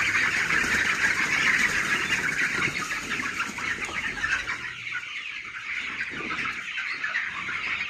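Naturally raised chicks, around 210 in total, make dense, continuous high-pitched chirping and peeping. Fowl cluck now and then and wings flap briefly. The flock sounds close and lively and gets a little quieter toward the end.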